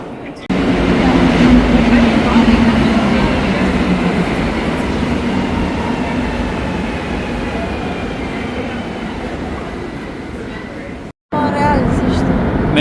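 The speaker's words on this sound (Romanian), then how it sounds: "Metrou din Montreal cu roțile de cauciuc." A Montreal metro train on rubber tires runs steadily with a loud, sustained rumble and drone. The noise stays constant for about eleven seconds, breaks off briefly, then resumes.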